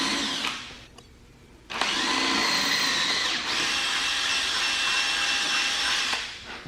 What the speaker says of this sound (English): I'm just going to drill this hole to 1/4 inch